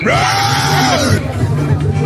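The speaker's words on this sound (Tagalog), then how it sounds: "Sasakay kami ng Vikings at hintayin nyo yung sigaw ko." A loud, high scream rises and falls from riders on a Viking swing ride at a festival, over a noisy crowd, with outdoor clamor and voices close by for the whole moment.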